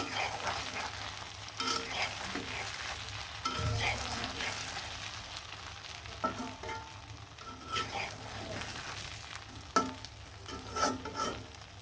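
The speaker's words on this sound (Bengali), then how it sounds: "খুব সুন্দরভাবে কিন্তু আমি মাছগুলা ডিমগুলা ভেজে নিলাম" Hilsa fish and fish roe frying with red chili in a pan, a steady crackling sizzle with scraping stirs and occasional clinks of the utensil, close and moderately loud throughout.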